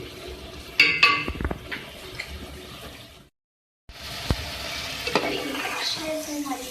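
Aloo gobi sabzi, potato and cauliflower, stirred in a pan: a soft sizzle with scraping spoon strokes and a few clinks against the metal, close up, briefly cut to silence midway before the frying noise resumes.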